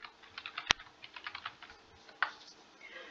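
Keys on a computer keyboard are tapped quietly as a name is typed, a short soft patter of clicks with one sharper key strike and a louder press near the end.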